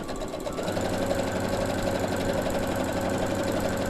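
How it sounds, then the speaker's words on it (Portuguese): A sewing machine runs at steady speed stitching two fabric pockets for a cloth sewing-machine cover, a close, continuous rapid mechanical whir with no talk. "Costurei os 2 bolsos"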